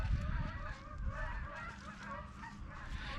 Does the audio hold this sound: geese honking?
yes